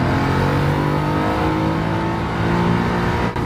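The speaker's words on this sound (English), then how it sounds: "You can hear the engine a lot more, and you can also hear the rolling noises a lot more." A car engine drones steadily from inside the cabin in Gran Turismo 7, modified only by weight reduction, with loud continuous engine hum and prominent road rolling noise, no voices.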